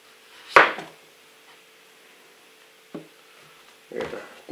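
A knife cuts zucchini on a board for frying in a village kitchen: one sharp chop followed by a few softer knocks, with quiet pauses between.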